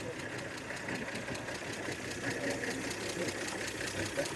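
The straight-six engine of an original 1938 Chevy 38HC pickup with a three-speed manual runs steadily with an even, ticking rumble, heard from inside the cab at moderate level with no talk.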